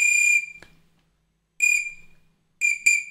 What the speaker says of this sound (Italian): Questo paparimo dovrebbe essere tipo un fischietto che fa un bordello